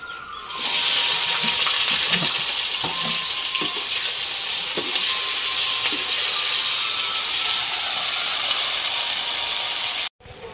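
Sliced onions drop into hot oil for biryani and burst into a loud, steady sizzle with occasional stirring scrapes, continuing unbroken until an abrupt stop.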